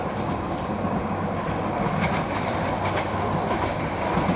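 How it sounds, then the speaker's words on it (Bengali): Express train running through hilly countryside on the way to Cox's Bazar, heard from inside a carriage: a loud, steady rolling rumble with a faint rhythmic clatter of wheels over the rails, continuous throughout and without voices. "দুই পাশে পাহাড়, মাঝখান দিয়ে ট্রেন তার নিজ গতিতে চলে যাচ্ছে"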